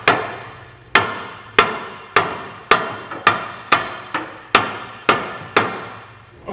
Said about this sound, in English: Sometimes you might have to even kind of tap it into place.